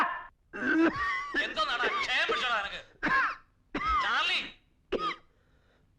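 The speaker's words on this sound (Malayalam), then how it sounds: "നിന്റെ ചുമയൊന്ന് നിർത്ത്" A man in a Malayalam comedy film scene coughs in several harsh, throaty bursts separated by short silences. Voiced, strained sounds run between the coughs, close and clear.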